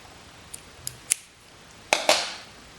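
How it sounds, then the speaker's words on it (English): Scissors snip a rubber loom band close by: three light clicks early on, then two sharper, louder cuts after a pause, in a quiet room. "Now we're gonna snip off the cap band"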